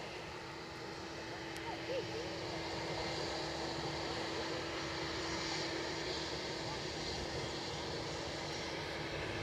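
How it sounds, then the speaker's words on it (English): A British Airways airliner taking off from the runway at Edinburgh airport, a distant, steady engine roar that holds at an even level throughout, with a faint hum beneath. "Nothing to impede it, turning up, lining up and shooting through."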